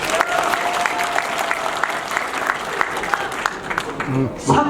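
Applause from an audience at a party members' education session in a Seonbu-dong community hall auditorium, steady clapping under a faint tonal hum, with a voice breaking in near the end.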